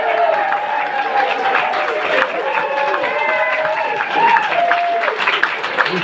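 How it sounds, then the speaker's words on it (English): Wedding guests at an outdoor handfasting celebration on Sark applaud and cheer a newly engaged couple, a dense, loud crowd of clapping mixed with whoops and voices. "We get a round of applause for Dom and Daisy"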